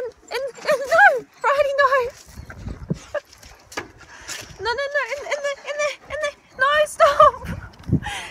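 Dogs bark and whine in short yelping bursts, fairly close, with a person talking in between.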